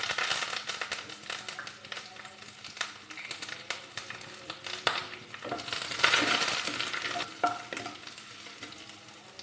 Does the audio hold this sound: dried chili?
yes